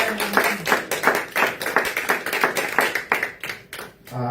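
A congregation in church applauding together, a dense, lively patter of many hands clapping close by at an uneven rhythm, sustained for several seconds before easing off.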